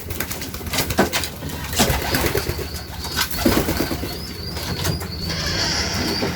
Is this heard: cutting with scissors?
no